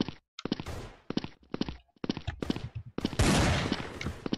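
Gunfire in the game Blood Strike, several separated bursts of sharp shots with short gaps between them, ending in a longer, louder sustained burst.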